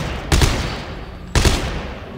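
Two heavy gunshots from Dead Space, each a sharp loud blast followed by a lingering rumbling tail, spaced about a second apart with no talking.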